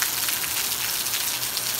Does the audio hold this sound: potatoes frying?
no